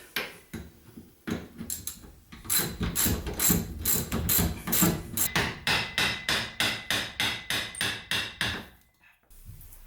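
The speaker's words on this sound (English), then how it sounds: "You're going to want to remove the shock lower bolt, or get the nut off there first" A ratchet wrench working the shock absorber's lower nut on a classic shoebox Ford, rapid repeated clicking strokes in a steady rhythm, close and loud, stopping abruptly near the end.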